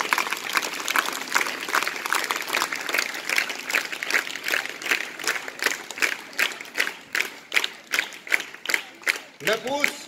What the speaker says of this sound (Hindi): सम्मानजनक तालियां चाहूंगा मैं आपसे।